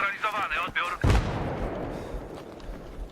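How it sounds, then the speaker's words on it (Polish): A deep, booming explosion erupts in Battlefield 3 multiplayer on the Strike at Karkand map after a brief burst of chatter, followed by a long rumbling tail of debris-like noise. "Wszystko to wybucha."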